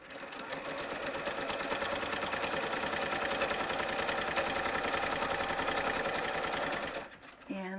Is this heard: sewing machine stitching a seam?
yes